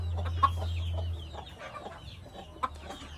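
Roosters, four of them shut together in a pen, cluck in scattered short bursts close by, with a low steady hum under the first half and a couple of sharper calls standing out.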